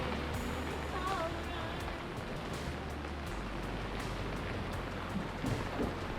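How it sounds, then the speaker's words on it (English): Rain arrives on a sailboat out on the Caribbean Sea, a dense steady hiss of drops beating on the deck and water that carries on unbroken, with a low rumble underneath. "Here comes the rain"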